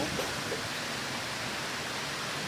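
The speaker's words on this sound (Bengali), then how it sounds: "অনেক অনেক ঝড় বৃষ্টি হচ্ছে।" Heavy rain pours down during a storm, filling the air with a steady, dense roar of falling water that holds unbroken throughout, close and loud with no voices.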